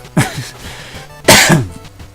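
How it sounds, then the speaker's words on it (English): A man coughs twice during a gaming session, each cough a loud, sharp burst with a harsh, breathy tail, about a second apart, with no talk over them. "As he actually needs to cough."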